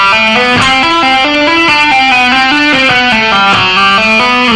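Distorted electric guitar plays a slow legato rock lick, one picked note then flowing hammer-ons, pull-offs and first-finger slides, loud and alone with evenly stepped notes.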